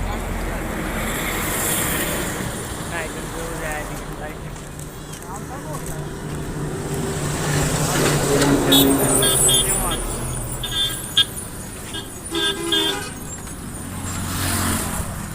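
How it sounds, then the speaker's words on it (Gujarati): Dense road traffic queued at a railway crossing on the way to Sihor, with car and truck engines rumbling steadily nearby and a few short horn toots. Someone talks over the traffic throughout. "આગળ ટ્રાફિક ફૂલ છે."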